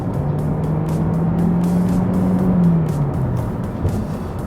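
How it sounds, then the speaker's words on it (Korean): Toyota Prius hybrid with CVT accelerating hard at highway speed, heard from inside the cabin as a steady loud road and engine drone with a rising, then easing engine tone. "자, 그리고 고속 주행을 하고 있으니까 제가 한번 밟아 볼게요."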